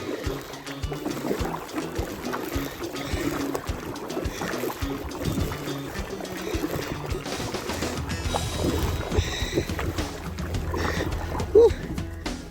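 A kayak paddled on a river against a headwind, with irregular paddle splashes and water sloshing close by, wind noise and bursts of speech over it.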